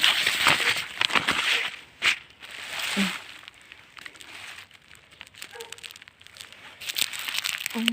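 Paper wrapping is handled and crinkled while a parcel of plants is unwrapped, giving a close, continuous rustle with scattered sharper crackles throughout.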